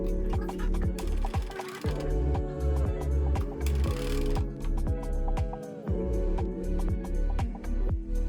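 A sewing machine stitches a shirt sleeve placket at a slow, careful pace. It gives a close, steady run of rhythmic mechanical clicks and whirring beats that pause once and then resume.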